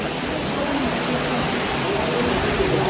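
Rainwater rushes down the stone stairway steps at Tirumala as a loud, close, continuous broadband roar, with faint voices underneath.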